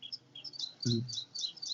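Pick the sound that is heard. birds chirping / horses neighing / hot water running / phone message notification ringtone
birds chirping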